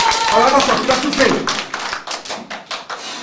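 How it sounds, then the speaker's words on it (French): Audience applause for a volunteer named Jonathan at a live show, a dense burst of many hands clapping, loud and close, with talk mixed in over the top. "On applaudit le souffleur Jonathan"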